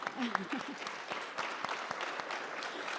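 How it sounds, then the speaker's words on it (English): An audience at a live fireside chat on the Edmonton real estate market gives a round of applause, a soft, distant, steady clatter of many hands lasting three seconds, with a brief voice at the start. "another round of applause for that"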